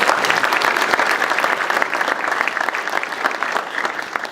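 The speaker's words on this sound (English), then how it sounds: "So how about a round of applause?" A round of applause at a grant announcement for an economic growth fund in Lehigh County, with dense, even clapping from a room of attendees that holds steady throughout.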